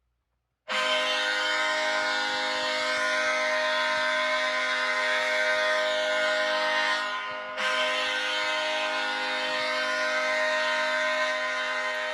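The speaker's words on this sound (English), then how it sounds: "I hear horns, I hear horns." Loud, steady horns blaring continuously, close and alone, with a brief dip before sounding again for several more seconds.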